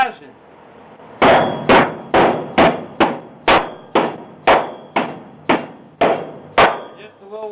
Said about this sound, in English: Now we can beat on it and it sounds solid.